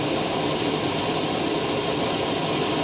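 A DPower camping stove burner opened all the way, giving a loud, steady, broadband roaring hiss that stays constant and close throughout with no voices.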